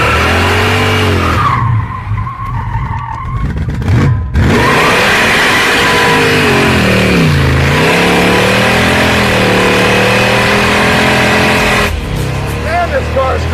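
An engine-swapped Jaguar does donuts in a parking lot, its engine revving and surging loudly with wavering pitch while the tires squeal and skid continuously, and people shout over it.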